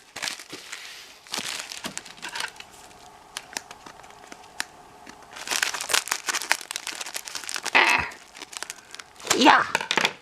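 Packaging from a diamond painting kit is opened up close: bursts of crinkling plastic and papery tearing come in uneven clusters, with small snaps and rustles between them and louder crackles near the end.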